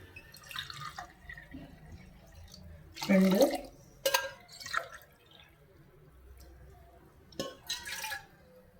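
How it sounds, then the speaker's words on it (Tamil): Water is poured into a pot holding jaggery in a home kitchen, with short splashing bursts and drips at intervals, close by and moderately loud, as someone talks between pours. "3 டம்ளர் தண்ணி விட்டுக்கணும்."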